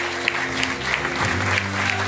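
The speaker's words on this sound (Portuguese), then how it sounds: "Aplauda o Senhor, igreja, nessa noite." A church congregation claps during an evening worship service, dense continuous applause with a low musical drone and sustained tones underneath.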